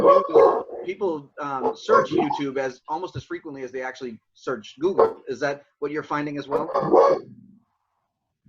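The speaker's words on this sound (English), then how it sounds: "I apologize for the dogs in the background." Dogs bark and yip in the background of a home podcast interview, short bursts mixed under continuous close conversational speech from two people.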